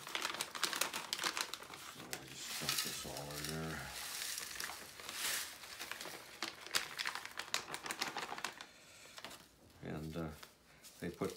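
Crinkling and rustling of a plastic bag of shellac flakes being handled, bursts of crackling in uneven clusters, close and fairly loud throughout.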